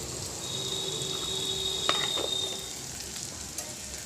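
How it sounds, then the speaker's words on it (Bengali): Ginger and garlic paste fry with onion and softened tomato in a pan, producing a continuous, even sizzle with a brief clink near the middle and no talking. "আদা রসুন পেঁয়াজটা এটা ভালো করে কষিয়ে নেব।"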